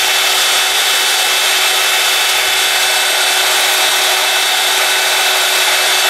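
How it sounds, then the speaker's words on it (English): A power sander grinds steadily against a powder horn, rounding off its high points, a loud continuous abrasive whir filling the whole clip without talk. "I'm just gonna take the sander and I'm just gonna try to round off some of these high points."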